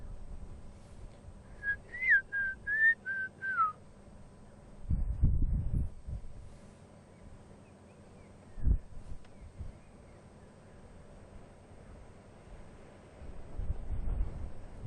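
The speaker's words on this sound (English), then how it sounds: "there's two birds with a beautiful whistle" A single bird gives a short series of clear, warbling whistled notes in the distance on a morning safari drive at Karula, followed by wind buffeting the microphone in low gusts.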